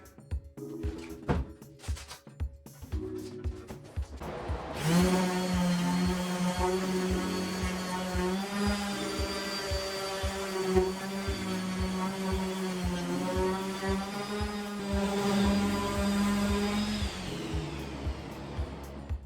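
After a few seconds of clicks and handling noises, a power sander starts up on wood and runs steadily with a loud, humming whine for the rest of the time.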